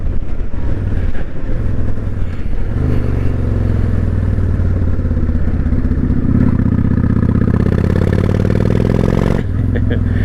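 A 1998 Honda Shadow 1100 motorcycle cruises in its highest gear at about 50 mph, its engine a loud, continuous low drone with wind rush, shifting slightly in pitch as it pulls along.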